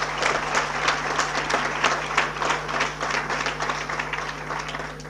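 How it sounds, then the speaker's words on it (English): Audience at an international management conference breaks into applause, a steady wash of many hands clapping at moderate distance, sustained throughout without talk. "So a huge round of applause."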